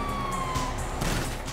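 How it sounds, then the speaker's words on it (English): Police siren in Grand Theft Auto V wails steadily with a falling tone amid loud game action, with crashing bursts and noisy commotion layered over it. "You hear that? Siren!"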